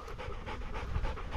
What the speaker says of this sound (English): Dogs pulled up.